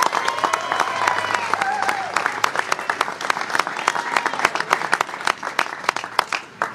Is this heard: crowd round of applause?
yes